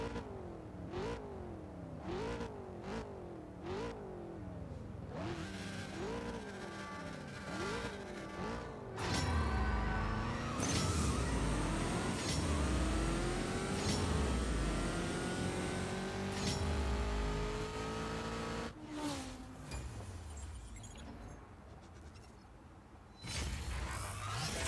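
A Mercedes C63 AMG in the racing game CSR 2 revs loudly in a quick series of blips, then accelerates hard through several rising gear shifts to a sustained roar. No one talks.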